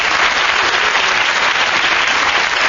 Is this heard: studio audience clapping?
yes